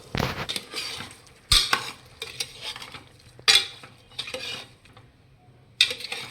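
Mutton pieces stirred in a frying pan with rock salt, soft sizzling under repeated scraping and clanking of a metal spoon against the pan at irregular intervals.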